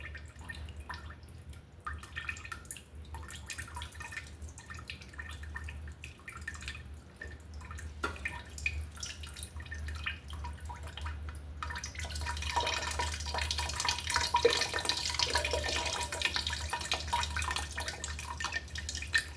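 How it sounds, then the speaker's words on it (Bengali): Milk being poured into a biryani pot, a soft trickling, dripping pour that builds and grows louder toward the end, with no talk over it. "কিছুটা আমি দুধও অ্যাড করে দিচ্ছি।"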